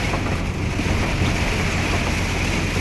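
Rain falling while an old car is driven on a road at about 40–50 km/h with headlights on, heard from inside as a steady, loud, dense wash of rain noise mixed with road rumble, with no talk.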